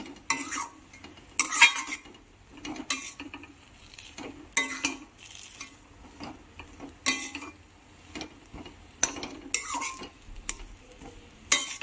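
A spoon stirs spiced potato filling for Bengali singara in a pan after chopped curry leaves are added, with irregular scraping and clinking strokes at close range, repeating throughout with no talk.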